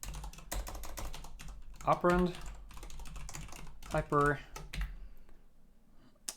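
Rapid keystrokes on a computer keyboard while writing compiler code, steady clicking running under continuous talk from a nearby voice.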